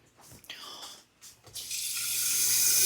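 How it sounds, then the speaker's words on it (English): Tap water pours into an oil-free salad dressing made with white pepper and sea salt; after a second or so of quiet clinks, a steady, hissing stream starts and keeps running, growing slightly louder. "And then to that, we are going to add water."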